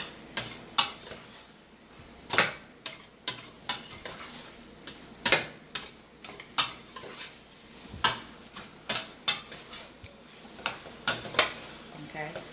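Spoon stirring taco spaghetti with seasoning in a pot: repeated clanking scrapes against the metal in an uneven rhythm, close up, over a soft bubbling background, with no talking.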